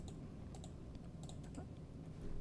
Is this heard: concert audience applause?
no